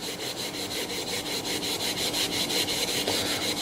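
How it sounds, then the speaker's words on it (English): Fine 4/0 steel wool scrubs back and forth over wooden AK rifle furniture, producing close, loud, rhythmic rasping strokes in a quick, regular pattern with no speech. "So we have 4/0 steel wool. We're just going to rub this down."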